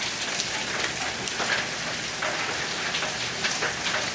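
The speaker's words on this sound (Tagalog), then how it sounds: "Lakas ng ulan na." Heavy rain pours in a dense, steady hiss of drops striking surfaces, continuous and enveloping, with no voices.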